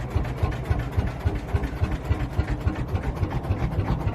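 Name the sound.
tractor engine idling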